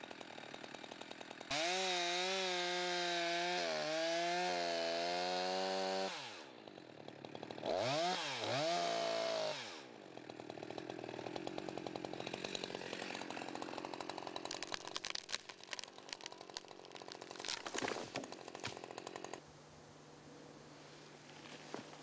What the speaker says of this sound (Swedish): När halva trädet är genomsågat sticker Stefan in en fällkil i skäret